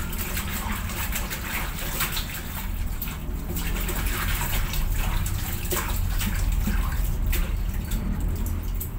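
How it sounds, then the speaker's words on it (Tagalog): Vegetables being rinsed in salted water in a home kitchen, a continuous splashing and sloshing of water with steady running and trickling, close and even in level. "Ito natin ihugasan yung gulay. Banlawan natin ng uling banlaw. Sa tubig na may asin."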